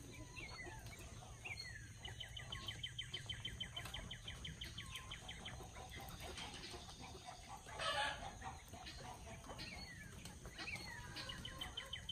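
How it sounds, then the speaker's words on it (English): Chickens cluck steadily while a rooster crows now and then, rather distant and quiet outdoors, with insects buzzing in the background. "And look at the chickens."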